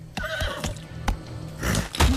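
A horse neighs in a lottery advertisement, a clear whinny rising over a soft music bed and then settling under brief background sound.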